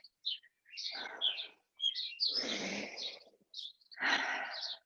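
Small birds chirp in short bursts, with faint breathy sounds underneath, a quiet outdoor scene.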